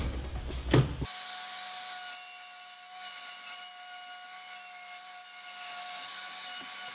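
A Festool router with an inlay kit cuts an inclusion cavity into wood veneer for marquetry. After a brief knock of handling, a steady, close motor whine with a high tonal hum runs on without a break.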